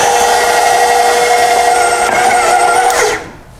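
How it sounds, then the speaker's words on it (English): An electric mixer whirs steadily through soda bread dough made with sugar, egg, buttermilk and caraway seed, a loud continuous motor drone that cuts off near the end. "So I'm gonna let my mixer do the work for me"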